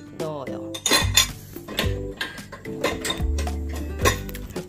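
Dishes being set into the lower rack of an LG Dios dishwasher, a run of close clinks and clatters of plates and cutlery in irregular bursts.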